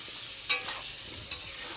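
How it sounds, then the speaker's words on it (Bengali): Potatoes frying with turmeric in a pan, a faint steady sizzle broken by two brief, sharper stirring scrapes, close by and with no talk. "এবার আলুগুলো ভালোভাবে নাড়িয়ে নেবো, লাল লাল করে ভেজে নেবো"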